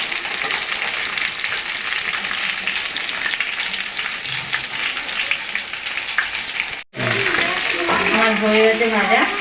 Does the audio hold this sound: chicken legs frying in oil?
yes